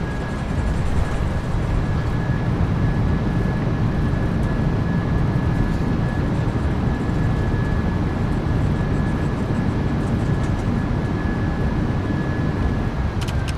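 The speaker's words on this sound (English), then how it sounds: "Goes down gently. Reversers are out." Thrust reversers of a PMDG 737-800 in Microsoft Flight Simulator 2024 deployed on landing, a loud, steady, dense roar of jet engine noise that fills the whole stretch with a faint constant tone running through it.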